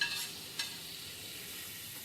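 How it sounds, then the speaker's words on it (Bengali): Chopped onions frying in a pan while being stirred, a soft close sizzle with brief scraping at the start, fairly quiet and continuous. "এরপরে কিন্তু আমি পেঁয়াজ কুচি অ্যাড করে দিচ্ছি।"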